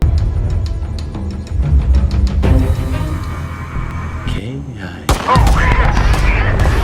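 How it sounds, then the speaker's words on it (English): A film scene gunfight erupts with rapid bursts of gunfire, first as steady repeated cracks, then heavier booming shots and a sudden loud blast, all dense and forceful with dramatic score and shouted voices mixed in. "Suddenly, a gunfight breaks out."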